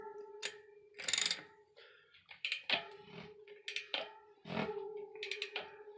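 A cassette lock ring is spun and hand-tightened on a mountain bike, giving sparse close metallic clicks and ratcheting ticks against a faint steady hum.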